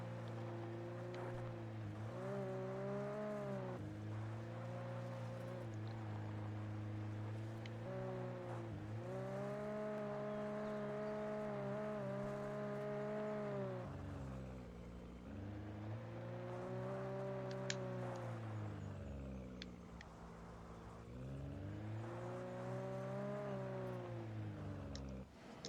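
A car driven in the game Alan Wake Remastered, a continuous engine drone that rises and falls in pitch as it speeds up and eases off, loud and close throughout, with no talking.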